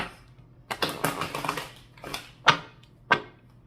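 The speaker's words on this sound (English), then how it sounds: "Give these a few good shuffles." Papery riffling bursts of tarot cards being shuffled, a long flurry followed by a few quick sharp snaps, close up in a quiet room.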